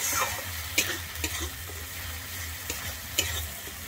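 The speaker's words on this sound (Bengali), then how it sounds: "আমি ধনে গুঁড়োটা দিয়ে আবারও কিন্তু একটু মিশিয়ে নিচ্ছি।" A spoon stirs coriander powder into a sizzling spice masala frying in oil in a pan for Bengali tel koi, with close scraping strokes over a steady hiss.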